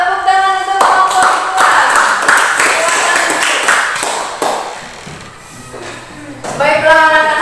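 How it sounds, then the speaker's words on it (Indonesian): Students in an Indonesian classroom clap for a group, a quick scattered patter of hands that rises and fades while voices call out and sing over it. "tepuk tangan untuk kelompok"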